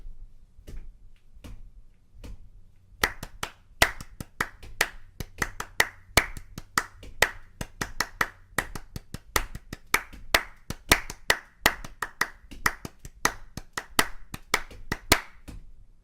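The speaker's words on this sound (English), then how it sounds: "I'm gonna tap it with my foot slowly, and I'm gonna clap it." Hands clap a steady rhythm as a count for a guitar tutorial, beginning with a few sparse claps and then settling into a quick, regular run of sharp, close claps with no talking.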